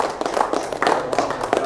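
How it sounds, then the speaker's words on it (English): Applause from a church gathering honoring a guest, a dense patter of hand claps spread evenly across the moment, moderately loud and steady with no clear voices over it. "Let's give him a round of applause."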